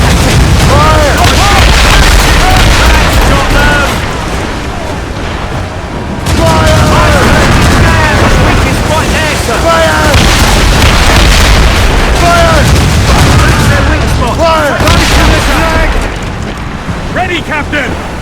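Ship cannons fire in Assassin's Creed Rogue, a loud run of booming blasts with a brief lull between volleys, crew voices shouting over the battle noise.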